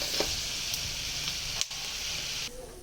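Peanuts frying in hot oil give a continuous, fairly quiet hiss and sizzle, close by, with a brief stirring knock partway through.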